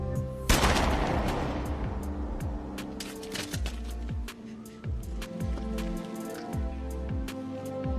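A gunshot rings out in an action-film scene as Lai shoots her father, one sharp burst followed by a dense, rumbling mix of effects and score that carries on underneath.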